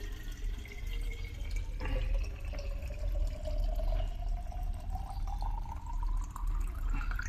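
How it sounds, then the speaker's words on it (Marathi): Drinking water runs into a bottle from a local supply, its pitch rising steadily as the bottle fills, over a low constant rush of flowing water with no talking. "हे प्यायचं पाणी मी आता भरायला लागलो"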